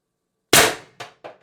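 A single sharp shot from an IntruBuster Gen 2 Titan launcher with a drum magazine, a loud crack after silence followed by two quick fading echoes.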